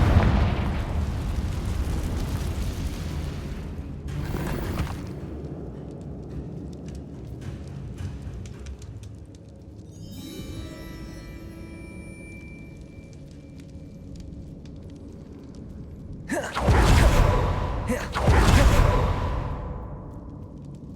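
Confringo blasting spell in the Hogwarts Legacy video game, heavy booming explosions with whooshing rushes, loud bursts near the start and two big blasts near the end over a rumbling game backdrop.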